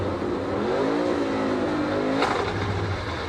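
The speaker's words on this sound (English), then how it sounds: "he revved the engine up and just shoved it as hard as he could into first gear" A NASCAR Cup Series race car engine revs hard and close, its pitch climbing and holding loud before easing off as it is shoved into first gear, over a constant mechanical roar.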